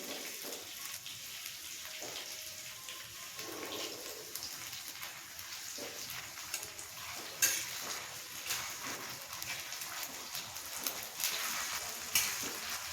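Ginger garlic paste sizzles in a pan with onions, a continuous faint frying hiss punctuated by occasional clinks and stirring scrapes, with no talking.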